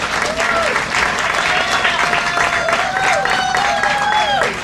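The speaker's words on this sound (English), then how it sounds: "Can we give her another round of applause?" A Suitland, Maryland community gathering's audience gives a sustained, loud round of applause, dense clapping filling the room evenly from start to finish, with faint whistles threading through the crowd.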